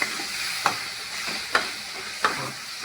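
Radish and tomatoes fry in a pan for a spicy Tamil kara kuzhambu, a steady close sizzle punctuated by four regular stirring scrapes of a spoon.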